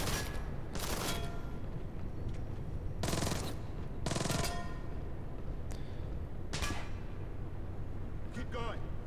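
Gunfire in the stealth shooter Splinter Cell Blacklist comes in four or five sharp, loud bursts spread irregularly over a low, steady background hum, with faint voices between them.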